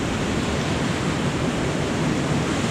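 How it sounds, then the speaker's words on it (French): A small waterfall in the Oumbéa valley, a steady, dense rushing roar of falling water heard close and loud, unbroken and with no voices. "c'est une petite cascade"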